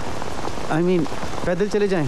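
Steady rain falls at night around a Mumbai railway station and street, a dense hiss running under two people talking throughout.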